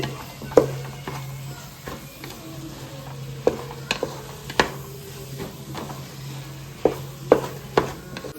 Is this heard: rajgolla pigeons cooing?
no